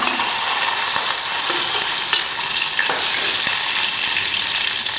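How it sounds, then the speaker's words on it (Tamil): Garlic sizzles steadily in hot oil with mustard seeds, cumin, pepper and lentils for a Tamil prawn curry, loud and close, broken by a few scraping stirs of a spoon against the pan. "இது வந்து ஏற்கனவே பாதி வச்சிருந்த வெள்ளைப்பூடு அதை போட்டு இப்போ வதக்கலாம்"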